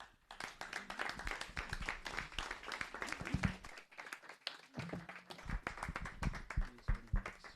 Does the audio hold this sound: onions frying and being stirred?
no